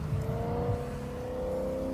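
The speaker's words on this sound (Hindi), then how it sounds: "इंजन की आवाज से भी लग रहा है कि ये कार बहुत फास्ट होगी।" Engine of a replica race car built to look like Lightning McQueen from the movie, a steady loud motor drone with a rising pitch, heard alone without talk.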